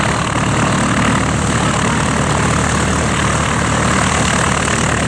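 A vintage Czechoslovakian propeller aircraft at Old Warden makes a loud, steady engine drone with a throbbing propeller hum that holds evenly and close throughout.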